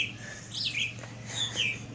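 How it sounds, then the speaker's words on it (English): A bird in a backyard gives a few sharp, high chirps and short whistled calls close by, standing clearly above a low, steady background hum. "Boy, that bird is loud, isn't it?"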